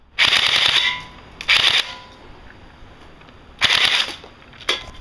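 Airsoft guns fire in short bursts at targets: two rapid rattling volleys, then a pause, then two more bursts. The shots are loud and close.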